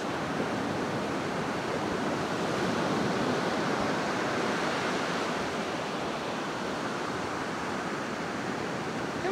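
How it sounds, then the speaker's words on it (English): Ocean waves wash in on the shore in a steady, broad rushing roar with no talk over it. "The wave's coming."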